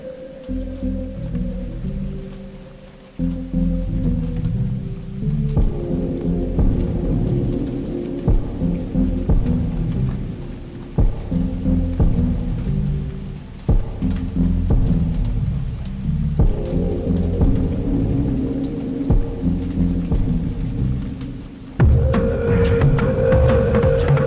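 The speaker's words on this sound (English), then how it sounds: "the background on this track is a field recording from a rainstorm" Field recording of a heavy rainstorm: dense, steady rain hiss with repeated low thunder rumbles rolling through, loud and continuous, with no voices.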